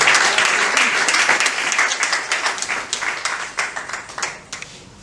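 A church congregation applauds, dense clapping from a crowd that is loud at first and thins toward the end.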